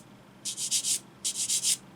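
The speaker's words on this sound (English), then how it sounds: "So I'm just going to flip that around and sand this other side." Two bursts of four quick sanding strokes on a small plastic model kit part for a 1/35 scale WWI Model T ambulance, crisp and close, with a short pause between sets and no talk.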